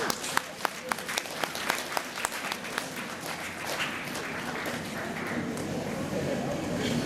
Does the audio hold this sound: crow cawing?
no